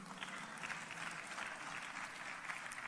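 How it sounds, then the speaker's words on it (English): Faint, steady applause fills a North West parliamentary outreach gathering, a soft even patter of clapping that holds without pause from start to end. "I will give you a round of applause"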